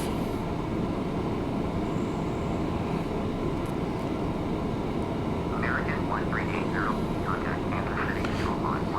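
An MD-11 airliner in a flight simulator roars through its takeoff with a steady, dense engine rumble that holds throughout, while someone talks over it.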